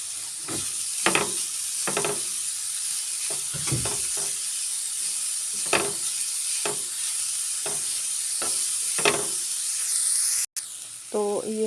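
Grated mooli (radish) filling cooking in a spoonful of ghee in a pan, giving a steady close sizzle and hiss with repeated scraping stirs breaking through, and a brief knock near the end.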